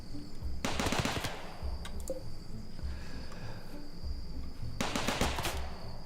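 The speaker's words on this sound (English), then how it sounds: "shoot ineffectually at it with a bunch of turrets" Turrets firing in Rimworld: two short bursts of rapid automatic fire a few seconds apart, fairly faint, over a steady high insect-like chirp and sparse softer shots.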